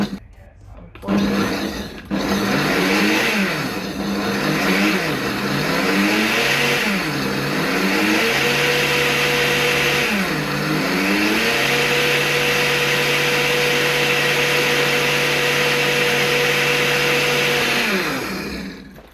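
A blender pulses olive oil into peri peri sauce, its motor loud and close, pitch rising and falling in repeated bursts before settling into a steady high whine that runs almost to the end.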